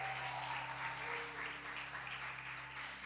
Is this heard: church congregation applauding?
yes